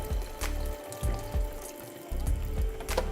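Hot water poured from a kettle into a pot of curry, a steady liquid pour with bursts of splashing and bubbling over a low hum, heard close and alone.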